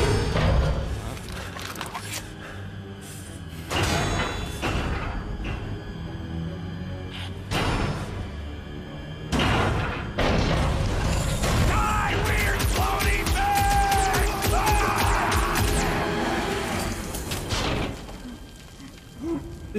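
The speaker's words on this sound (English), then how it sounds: "It's a swarm of old cleaner bots." A swarm of old cleaner bots in the Guardians of the Galaxy game, heard as a dense, loud clatter of mechanical whirring, bursts and crashes that keeps going for the whole stretch, with brief shouted voices mixed into the chaos.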